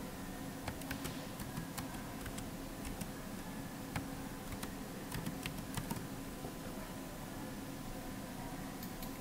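Computer keyboard typed on steadily while writing code, a faint run of light clicking keystrokes in uneven bursts over a low room hum.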